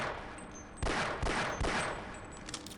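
Basic pistol fired in the video game Half-Life 1, a few sharp shots over dense background game noise, fairly close, with no talking.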